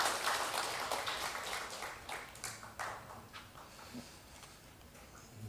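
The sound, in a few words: congregation applause in church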